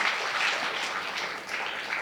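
Loud applause at the first Buddhist vihara in Bhilai, Chhattisgarh, a dense, steady wash of hand clapping close by for about two seconds, with a slight dip near the end.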